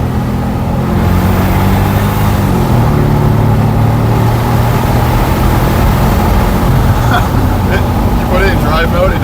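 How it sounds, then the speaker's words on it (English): A Porsche Cayenne Turbo V8 with its muffler deleted drones loudly and steadily from inside the cabin, its engine note holding high under revving while people talk over it. "It just wants me to keep revving it."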